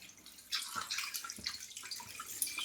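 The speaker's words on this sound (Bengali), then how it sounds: "মাছ আমি ধুতে চলে এসেছি, জ্যান্ত মাছ তো।" Live catla fish are rinsed under running water, giving a soft close splashing and trickling with small irregular splashes, fairly quiet throughout.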